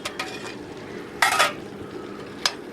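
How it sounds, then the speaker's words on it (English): Soaked split yellow and pink lentils are stirred into a cooking pot for an Indian dish in Mumbai, a soft sizzle underneath with a few sharp scrapes and clinks of the spoon against the pot, close by and without talk. "Stir those in."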